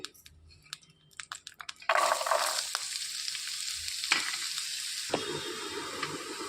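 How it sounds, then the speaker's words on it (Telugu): Carrot pieces fry in a tablespoon of oil in a pan, a loud steady sizzle breaking in after a few soft taps and clinks and continuing close and alone, with occasional stirring scrapes. "ఒక టేబుల్ స్పూన్ ఆయిల్ వేసుకొని ఈ క్యారెట్ ముక్కలు అనేవి అందులో వేసేసుకొని వేయించుకోవాలి"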